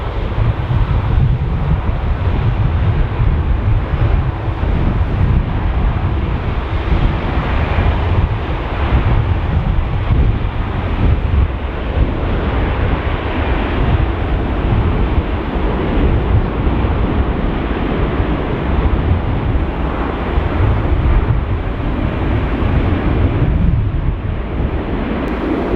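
Strong gusty wind buffets the microphone at Dublin Airport, gusting up to 32 knots, as a steady loud roar with rumbling low-end surges and no talk throughout.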